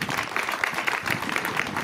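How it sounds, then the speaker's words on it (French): Brief audience applause at a school inauguration in Evry-Courcouronnes, a steady wash of clapping at moderate level throughout. "Bah, je crois qu'on peut l'applaudir également."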